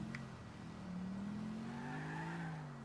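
Car engine from Grand Theft Auto IV cruising at steady speed, a low droning hum that slowly rises in pitch as it accelerates, continuous and fairly close with no voices over it.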